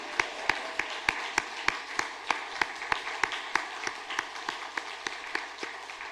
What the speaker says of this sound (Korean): 우리 새해를 허락하신 하나님께 영광의 박수 올려드리겠습니다